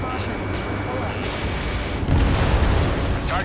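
A ground target is destroyed in Ace Combat 7, giving a deep rumbling boom that swells midway over a constant roar of combat and engine noise, with voices talking through it.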